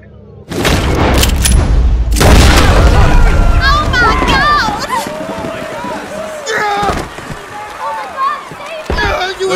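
Gun fired at a magician during a staged bullet catch trick: a loud boom with an explosive burst, followed by shouting voices and a chaotic, dense mix of sound.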